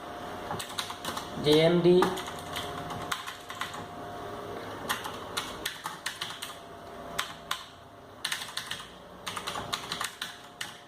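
A company name being typed on a computer keyboard for Tally.ERP 9 company creation, a quick run of clicky keystrokes in bursts with short pauses, close and clear, with brief talk near the start.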